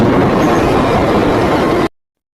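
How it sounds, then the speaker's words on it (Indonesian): A train thunders past in a film scene, a loud, dense rumble that holds steady for nearly two seconds before cutting off abruptly into silence. "kereta melintas hingga Fogg tewas terlindas oleh kereta tersebut"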